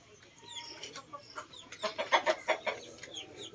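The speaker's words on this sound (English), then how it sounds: "So we have 18 chicks in the brooder box right now" Heritage chicks in a brooder box peep and cluck softly, scattered calls growing into a brief cluster of louder chirps, fairly close in a quiet room.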